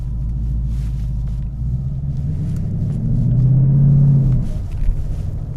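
A 2019 Mustang GT running a flex fuel tune on roughly 64% ethanol pulls away and cruises, its engine giving a steady low rumble that swells briefly in the middle, heard from inside the car with no talking.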